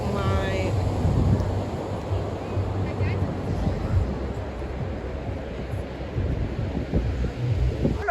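Strong wind sweeps across a beach at Myrtle Beach, South Carolina, roaring and buffeting the microphone in steady gusts, with faint surf and a muffled voice underneath.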